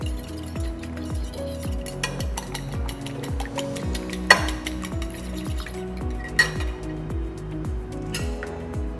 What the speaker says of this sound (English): Tutachanganya mayai kwenye bakuli.